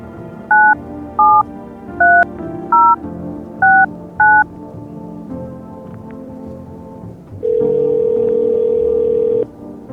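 Telephone keypad tones in a video game: six short, evenly spaced dialing beeps, then a brief pause and a steady ringback or dial tone that holds for about two seconds, all clear and without talk.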